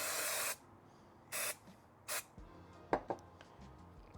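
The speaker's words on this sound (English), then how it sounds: "Spray this head on." Three short hissing bursts of an AMACO Velvet glaze aerosol spray can onto a ceramic rhino, separated by pauses, followed by a couple of faint clicks and light handling noises.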